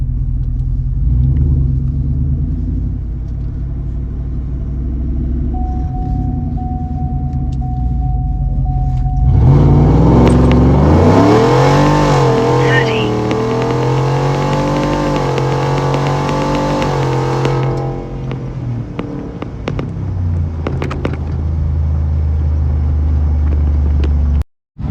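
A Ford F150 pickup rumbles at idle, then its engine revs hard and pulls away, roaring loudly with rising and falling pitch before settling back to a steady low drone.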